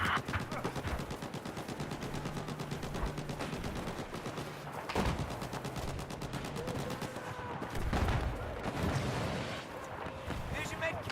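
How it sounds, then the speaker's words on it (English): Machine gun fire in the Battlefield 4 video game, dense rapid bursts and scattered shots over a busy battle background, with people talking over the action throughout. "it looks like there's a hostile machine gunner."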